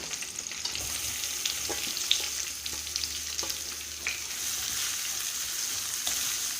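Green chili pieces and onion sauté in a pan for a Bhandari-style dried bombil and methi dish, a steady close sizzle with a few soft stirring clicks and scrapes, no voices.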